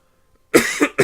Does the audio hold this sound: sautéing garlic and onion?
no